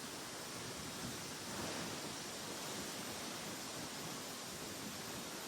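Waterfall spray falling from above in the hills of Sindhupalchok or Dolakha, Nepal, a dense, steady hiss of water droplets with no pauses, fairly soft and even throughout.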